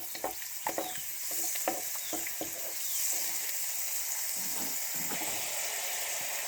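A pan of water with rava upma ingredients comes to a boil, giving a steady close sizzling bubble with occasional stirring clinks, and no talking.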